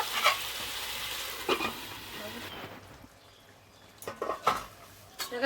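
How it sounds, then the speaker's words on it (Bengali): Lote fish curry with potato and eggplant frying in a pan with coriander leaves, a hissing sizzle with brief utensil clinks, loud at first, then quieter with a few sharp scraping bursts near the end. "ধনে পাতা দিয়ে দেব আবার একটু ভেজে দেব"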